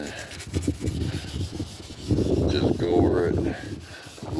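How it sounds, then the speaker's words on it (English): Steel wool rubs lightly over the body of a 1973 Ford F250 in a close, rasping scrub that grows louder in the second half, with someone talking over it. "I got my trusty steel wool here, and just go over it lightly"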